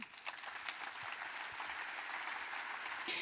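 Warm audience applause at the opening of the 20th art KARLSRUHE fair, welcoming the managing director of Karlsruher Messe und Kongress GmbH, a dense steady wash of many hands clapping throughout that swells slightly toward the end.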